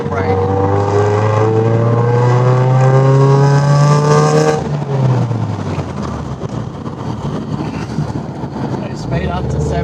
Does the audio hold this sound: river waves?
no